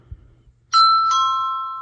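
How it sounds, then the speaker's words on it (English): A smart video doorbell plays its chime tone: a bright two-note electronic ding-dong, the second note sustaining and slowly fading, close and clear with no voices. "Now the doorbell tone, they do give you a few of those."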